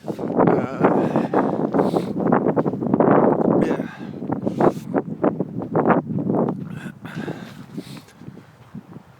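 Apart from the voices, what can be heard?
wind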